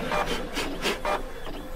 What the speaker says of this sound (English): This printer is driving me crazy. It's so slow.